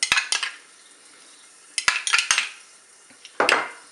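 A spoon scrapes and clinks against a bowl in short bursts while a macédoine of vegetables is mixed with mayonnaise and eggs, with quiet pauses between the stirring strokes.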